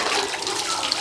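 Water running from an opened tap in a rural Egyptian village setting, a steady broadband gush that stays loud and even throughout with no talk over it.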